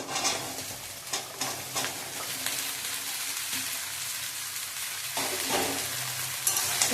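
Okra and potato pieces sizzle steadily in a pan with onion and green chilli, with repeated scraping stirs and clinks breaking through the frying hiss, close and fairly loud, with no talking.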